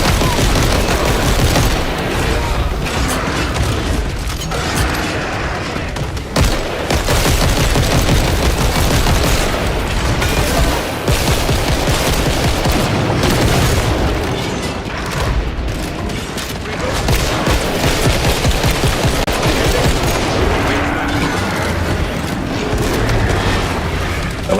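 Dense gunfire and impact grenade blasts in Killing Floor 3, with loud continuous volleys of shots and booming explosions layered without pause throughout, very close and intense.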